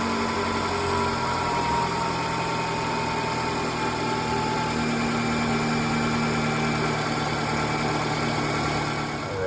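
A car engine idles steadily at close range while warming up, a continuous mechanical hum with faint vibration and no talking.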